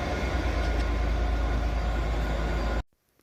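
A Class 390 Pendolino electric train hums loudly and steadily at Crewe Station, a dense continuous rumble that cuts off abruptly near the end.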